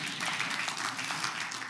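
A church congregation clapping during a praise service, a steady, dense patter of many hands filling the room with even rhythm and no voices heard over it.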